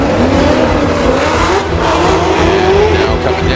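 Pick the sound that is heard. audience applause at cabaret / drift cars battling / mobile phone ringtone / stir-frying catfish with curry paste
drift cars battling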